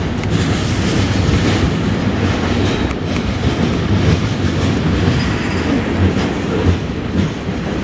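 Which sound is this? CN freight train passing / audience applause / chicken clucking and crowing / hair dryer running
CN freight train passing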